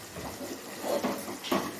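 Hot water pours into a pan of mutton curry at close range: a soft, uneven trickling and splashing, faint and continuous, with a few brief gurgles.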